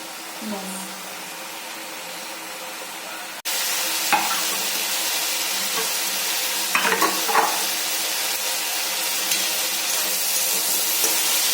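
Leafy saag greens fry in a pan, a steady loud sizzle with occasional stirring scrapes; quieter at first, then jumping to full hiss after a few seconds, with brief sounds of talk in the background.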